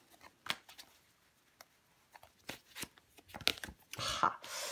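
Tarot cards handled and laid down onto a spread, a series of soft papery taps and slides, sparse at first and then a busier rustling shuffle near the end, faint and close.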